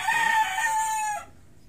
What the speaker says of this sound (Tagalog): Tilaok yun, yung manok.